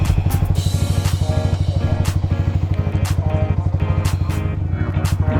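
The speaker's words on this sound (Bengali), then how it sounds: "এক্সস্টের সাউন্ড" Modified Yamaha R15 V3 motorcycle exhaust idling and blipping close by, a loud rapid rhythmic putter with sharp throttle rises throughout.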